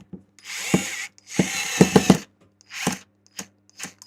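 A powered screwdriver turns a screw during electronics repair, running in several short whirring bursts separated by silence, with a few clicks in between, close and moderately loud.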